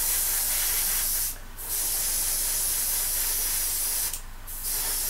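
An airbrush sprays Tamiya metallic paint in a steady, close, loud hiss, broken by two short pauses where the airflow briefly stops before resuming.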